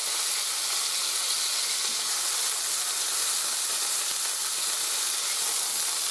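Food browning in a pot on a cold day for a one-pot meal, a continuous even sizzle and hiss that stays close and steady throughout.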